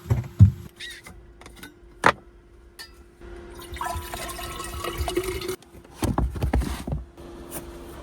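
Water runs into a container in a van, gurgling and splashing in uneven bursts between clunks and knocks, fairly close, with no one speaking.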